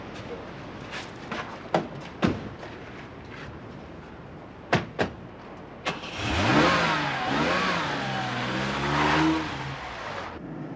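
A car door closes with a few sharp clunks, then the engine starts and revs as the car pulls away, a rising, fluctuating roar that holds close and fairly loud.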